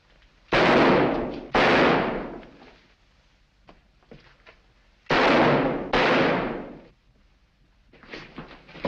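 Loud gunshots crack out in a 1943 Sherlock Holmes mystery film scene, two sharp close blasts followed by two more after a pause, each with a long booming decay, with no talking over them.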